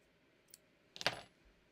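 Scissors make a soft tick and then a short crisp snip around one second, cutting a caught thread in fabric on a garment being sewn. The room is otherwise quiet.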